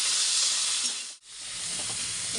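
Tomato and green chilli fry in hot oil with nigella seeds, a loud steady sizzle and hiss with a brief dip in the middle before the crackle picks back up.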